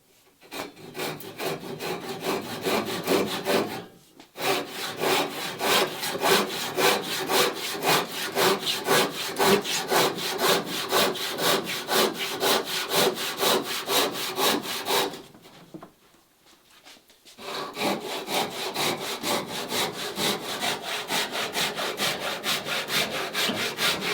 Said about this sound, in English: This calls for a bigger saw, just for fun.